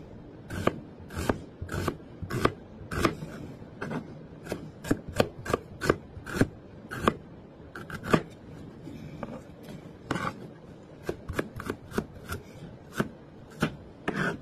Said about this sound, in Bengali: পেঁয়াজ কেটে নেবো, রাফলি চপ অ্যাজ ইউজুয়াল